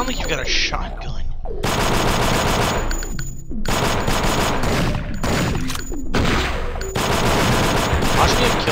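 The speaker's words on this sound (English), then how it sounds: "sound like you got a shotgun" Shotgun fire in the video game Thing Thing 3, loud rapid bursts of gunshots with metallic clanks, repeating across the stretch with brief gaps.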